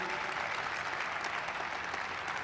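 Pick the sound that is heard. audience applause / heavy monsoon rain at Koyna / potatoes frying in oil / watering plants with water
audience applause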